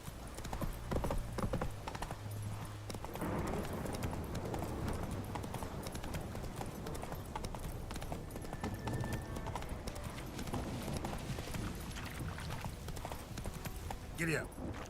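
Rhythmic hoofbeats of a horse galloping in The Witcher 3, a steady clip-clop pattern close and continuous, with a voice speaking briefly over it.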